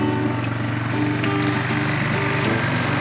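A neglected Yamaha ATV engine idles steadily nearby, a continuous low mechanical drone with a lawn-mower-like buzz and faint knocking throughout.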